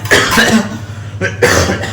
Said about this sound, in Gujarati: સોરી અચાનકથી ઉધરસ હવે ઉપડી ગઈ છે